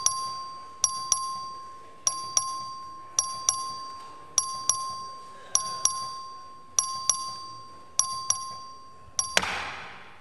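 A bell rings for a record vote in the Texas House chamber: sharp, bright double dings repeat in an even rhythm, nine or ten strikes, ending in a brief burst of noise.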